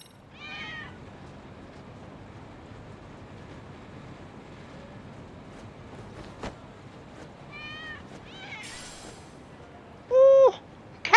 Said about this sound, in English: Ooh, cat!